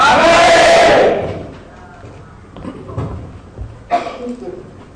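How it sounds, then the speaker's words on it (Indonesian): A seminar audience bursts into a loud second of cheering and clapping, which quickly fades into quieter room noise, scattered thumps and voices talking. "Tepuk tangan sekali lagi untuk Pak Samuel tadi."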